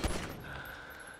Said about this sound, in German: Einfach rumschießen.